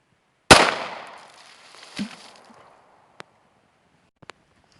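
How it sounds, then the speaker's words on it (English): A 9mm Star BM Spanish pistol fires one loud, sharp shot with a long, ringing decay, followed a second and a half later by a softer, duller report. A few faint clicks come after. "Alright, so I'll be shooting first the 9mm. This is a Star BM. It's a Spanish pistol"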